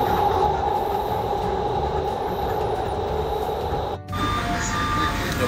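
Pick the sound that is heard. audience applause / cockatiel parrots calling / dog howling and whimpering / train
train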